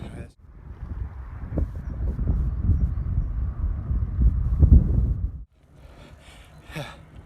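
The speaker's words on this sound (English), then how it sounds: "Very windy now though, that's just annoying" Strong wind buffets the microphone outdoors during a bike ride, a loud low roaring rumble lasting several seconds before cutting off into calmer, fainter air with a faint breathy sound at the end.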